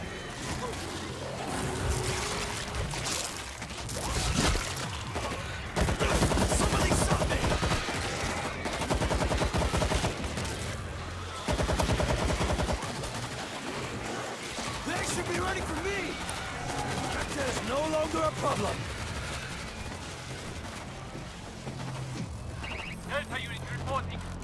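Grenade blasts and bursts of automatic gunfire in the video game World War Z, dense and loud with heavy volleys mid-clip, mixed with shouted voices.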